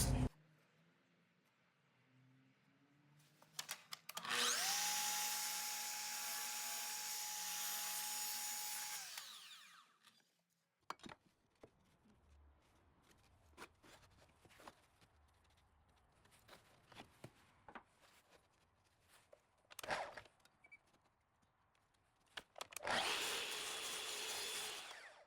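A power tool cuts cedar fence pickets to size for a planter base, running loud and steady for several seconds, followed by a quieter spell of scraping and handling noises and later another short burst of cutting.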